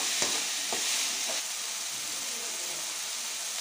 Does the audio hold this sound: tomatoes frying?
yes